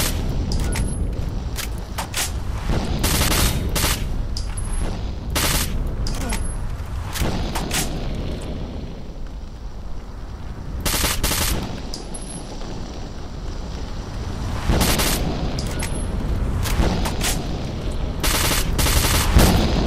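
Gunfire in S.T.A.L.K.E.R.: Shadow of Chernobyl, loud bursts and single shots of a firearm in irregular clusters over a steady windy outdoor background, close and sharp.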